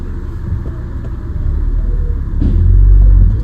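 A MINI rolls along on a freshly fitted new tire, a steady low road rumble with engine hum that swells and grows louder toward the end as it picks up speed.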